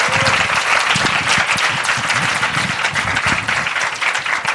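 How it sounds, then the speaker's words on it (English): A conference audience applauds its plenary panelists, a dense, steady wash of many hands clapping that holds at an even level throughout, with no voices rising above it. "How about we have another round of applause for our panelists?"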